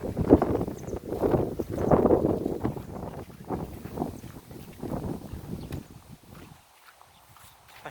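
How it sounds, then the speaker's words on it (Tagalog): Strong wind buffets the microphone in heavy, gusty low rumbles, easing off near the end into a quieter hush. "Malakas kasi yung hangin ngayon"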